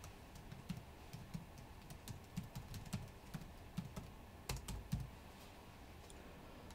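Quick, light typing on a computer keyboard: an irregular run of soft close clicks and taps continuing steadily for several seconds, with no talk.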